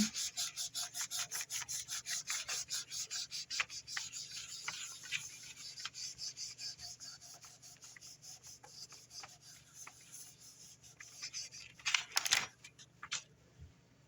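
A tool rubs back and forth over a polymer clay pendant in quick, steady strokes, close and fairly quiet, with a brief louder scraping burst near the end and no talking.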